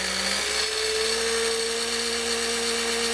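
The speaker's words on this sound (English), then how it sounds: "now it works as a regular immersion blender" A vintage Braun Multipractic MR 72 hand blender runs as an immersion blender with a steady motor whine that steps up in pitch once early on, then holds constant and loud throughout.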